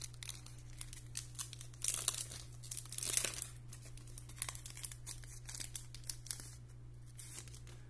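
A 2022 Panini Classics trading card pack is cut open and unwrapped, with soft crinkling and tearing of the wrapper in close, quiet bursts over a low steady hum.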